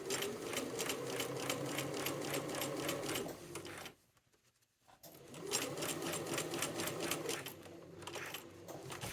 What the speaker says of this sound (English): And I'm going to stitch forward.